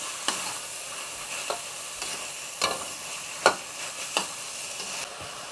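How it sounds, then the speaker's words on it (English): Pork and yams stir-fry in a pan with a soft steady sizzle, punctuated by irregular spatula scrapes and taps roughly every second; close, no talking. "Continue to stir fry."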